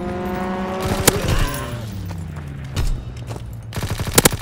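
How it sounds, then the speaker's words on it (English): Fighter aircraft strafing in a war video game, a descending engine roar followed by sharp bursts of rapid gunfire and impacts, loud and close. "Fighter pilot inbound, strafing the target."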